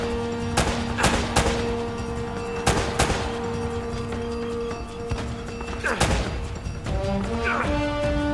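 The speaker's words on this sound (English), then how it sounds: "Shotgun." Repeated shotgun blasts in Uncharted: Drake's Fortune, several sharp booming shots spaced a second or two apart over steady game music and ambience, loud and close.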